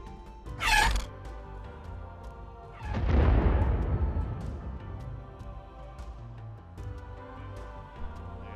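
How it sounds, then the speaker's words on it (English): Halo Infinite weapon sound effects heard as separate pieces: a short sharp high burst, then a heavy booming blast that decays slowly, with faint clicks and mechanical ticks afterward. "The audio team also shares with us what the weapon sounds like. So here's what they sound like in pieces."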